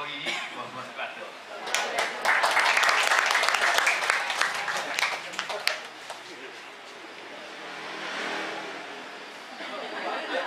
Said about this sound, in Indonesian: Tepuk tangan sekali lagi untuk senior kita, Bapak Herman.